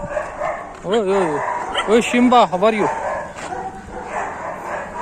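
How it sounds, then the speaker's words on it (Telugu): Several dogs bark and yip eagerly close by while waiting for a large packet of Pedigree dog food, a burst of overlapping barks in the middle of the clip with someone talking over them. "ఏ పోరా ఏం వాడు చూడు ఎట్లా అరుస్తున్నాడు"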